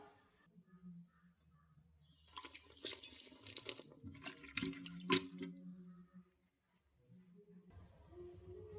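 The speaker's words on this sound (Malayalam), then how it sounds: "അമരയ്ക്ക ഒന്ന് കഴുകാം" Broad beans being washed under a running kitchen tap, water splashing and pattering into a sink for several seconds, close but fairly soft, then stopping, with no talk.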